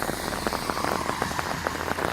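Rain falling steadily near Sturgis during a motorcycle trip, with close, scattered drops pattering on surfaces over a constant soft hiss.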